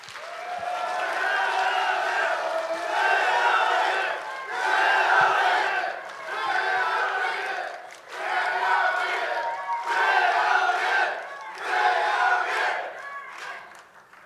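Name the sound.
audience applauding and cheering to welcome candidate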